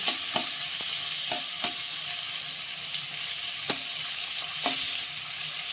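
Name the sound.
prawns frying in a pan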